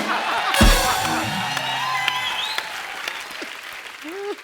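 Studio audience at a Hindi comedy talk show breaks into loud clapping mixed with a few whoops and cheers, close and full, while a host's voice speaks over the applause.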